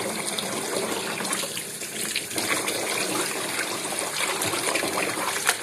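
Fish being washed by hand under a running tap for cooking, a steady splashing gush of water with shifting spatter as it is rinsed, close and continuous.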